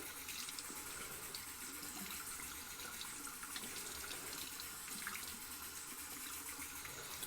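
Water runs steadily from a tap as a wet-shaving brush is rinsed beneath it, a constant soft splashing hiss with no talk.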